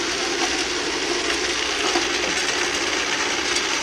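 A tumbler machine running outdoors, giving off a steady, even mechanical whir and hum at close range that does not change, with no talking.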